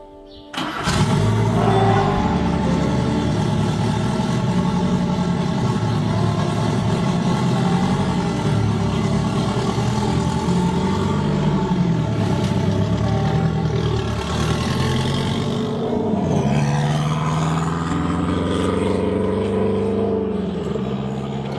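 A 1984 Renault 5 Turbo 2 engine starts abruptly and runs loud and close, a steady rough idle with a blip of revving near the end.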